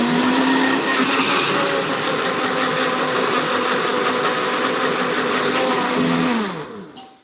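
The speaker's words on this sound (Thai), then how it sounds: "ปั่นพริกอะพริกนี้พริก ทำกินนะครับพริกนี้ คั่วเสร็จแล้วปั่นครับ" Roasted chilies grind in a loud, close electric blender that whirs steadily before winding down and cutting off at the end.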